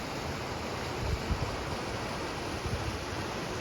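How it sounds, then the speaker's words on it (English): A river in the Gros Morne mountains rushes steadily past, a dense, continuous roar of flowing water close by with slight surges and no voices. "And we've got this beautiful river here."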